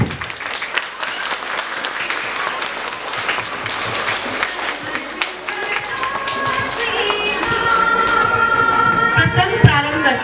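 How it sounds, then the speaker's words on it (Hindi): An indoor audience claps to welcome children onto a stage, a dense, steady patter of many hands that swells and grows louder, joined near the end by sustained musical tones. "अपने बच्चों का स्वागत कीजिए तालियों के साथ।"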